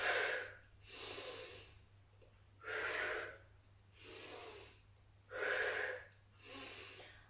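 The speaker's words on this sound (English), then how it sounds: "When I breathe, I exaggerate it so that you know exactly the correct type of breathing" Deliberately exaggerated breathing during a seated full-body workout for older adults: six strong, even breaths close to the mic, with sharp inhales alternating with long, hissing exhales and quiet gaps between them.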